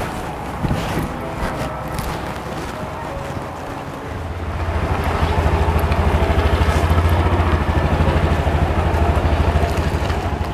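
A motorcycle engine runs with a steady low drone that grows louder and fuller after a few seconds, with wind buffeting over it and no talking.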